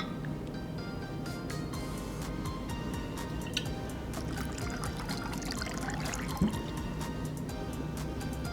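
Kahlua and other liquid pouring for a hot White Russian, a soft continuous trickle with light drips and small splashes, fairly quiet and steady throughout with no talking.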